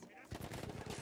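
Rapid gunfire from a weapon in the video game Battlefield 1, a dense burst of repeated shots starting after a brief quieter lead-in and continuing loud and steady to the end.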